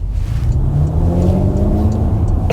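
Exhaust of a Porsche Macan GTS as it accelerates, a low steady rumble with a rising engine tone, heard from inside the car, continuous and fairly loud with no talk.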